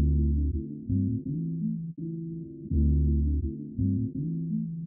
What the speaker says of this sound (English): Apply a low pass filter that removes everything but the lows, and boost the low end with the EQ to taste.